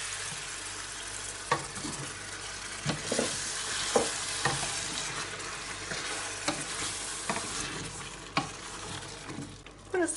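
Leek and squash cook in a pan as water is added, producing a constant close sizzle broken by repeated sharp clicks and taps of stirring.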